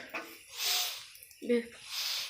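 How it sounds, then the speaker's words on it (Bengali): Wet sniffling through a nose congested from a cold, several sharp snorting inhales and hissy breaths close up, with a short voiced sound between them. "আমার নাক দিয়ে সর্দি বেরোচ্ছে ফোঁস ফোঁস শব্দ হচ্ছে"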